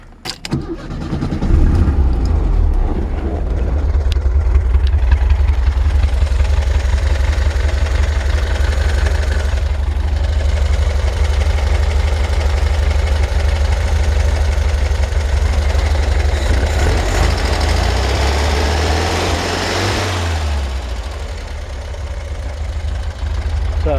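A 1969 VW Beetle engine starts up and settles into a steady, rumbling idle close by, its low throbbing exhaust running unbroken for about twenty seconds with a brief shift in pitch near the end.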